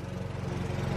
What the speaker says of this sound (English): I don't know if you can hear me because somebody's cutting the grass